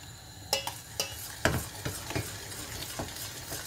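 A spoon mixes mango fruit custard in a bowl, giving soft, scattered scraping clicks and knocks over a quiet background.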